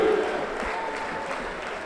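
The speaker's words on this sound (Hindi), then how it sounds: "एक बार खड़े होकर मोहन भागवत जी के सम्मान में तालियों से इस पंडाल को गुंजायमान कर दीजिए" A standing crowd in a large pandal applauds in honour of Mohan Bhagwat, a dense, continuous wash of clapping that stays fairly loud and even throughout, with no speech over it.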